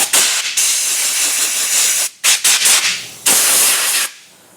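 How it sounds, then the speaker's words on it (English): Brake parts cleaner hissing from an aerosol can onto a bolt during a KTM motorcycle repair, loud close bursts of spray lasting a second or two each, broken by short pauses, with no talk. "I'm going to really get that sprayed down."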